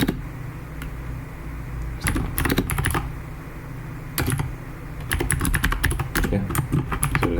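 Close computer keyboard typing, Python code being entered in quick bursts of clacking keystrokes separated by short pauses, over a low background hum.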